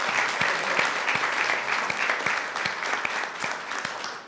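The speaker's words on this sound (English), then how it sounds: "Please give Eric another round of applause" An audience at a community conversation event gives a round of applause, dense continuous clapping from many people, fairly loud and even throughout, with no talking over it.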